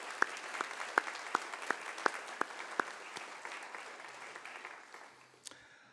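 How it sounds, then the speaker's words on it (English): Audience applause at a College of Pharmacy white coat ceremony, a steady wash of many hands clapping with a few sharp individual claps standing out, fading away toward the end. "Please join me in applause for those donors."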